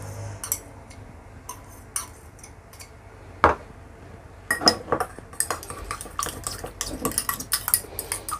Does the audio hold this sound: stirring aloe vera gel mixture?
yes